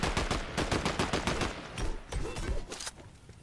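Rapid automatic gunfire from Fallout 4 gameplay, dense bursts of shots rattling off in quick succession, loud and close, then thinning into a few scattered reports toward the end.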